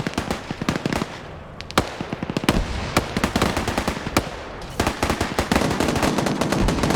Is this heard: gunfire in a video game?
yes